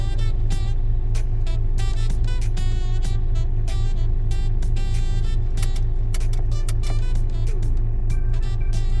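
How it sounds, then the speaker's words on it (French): Heavy city traffic streams along a big boulevard, a loud constant rumble of engines heard from inside a vehicle, with repeated clicks and rattles on top and no voices. "Ah, regardez, toutes ces voitures."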